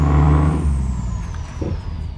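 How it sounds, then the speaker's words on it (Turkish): The engine of a Scania R380 8x2 truck in Euro Truck Simulator 2 rumbles low and steady at idle, with a thin high whine and a hiss fading across the start. "Ama motor sesi efsane."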